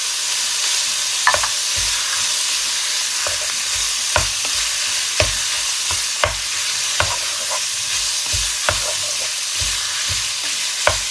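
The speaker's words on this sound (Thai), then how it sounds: "เเราก็จะคั่วหมู หรือว่า หมูตอนนี้ให้สุกก่อนนะคะ" Pork with chili stir-fries in a hot pan, a constant close sizzle broken by scraping utensil strokes at irregular intervals.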